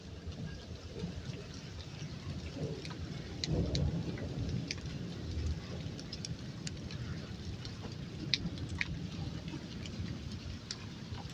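Steady, moderate rain pours down with a low rumble of thunder rolling through the middle, scattered drips ticking on top throughout.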